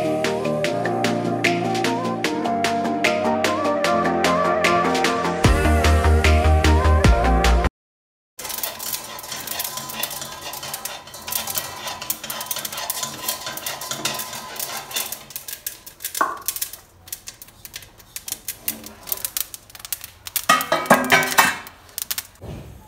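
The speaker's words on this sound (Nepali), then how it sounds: "अब सुरुमा चाहिँ मैले यहाँ आलस भुट्न गइरहेको छु" A cup of flaxseeds is dry-roasted in a pan, giving a close, dry crackle of small clicks and rattles as the seeds are stirred. Music plays first, then a short silence comes before the roasting sounds.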